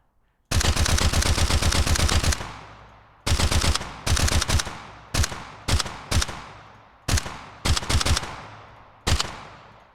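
Synthesized gunfire from the Krotos Weaponizer plugin: a loud rapid automatic burst, then a series of short clipped bursts and single sharp shots, each cut off cleanly with a brief tail, separated by silence.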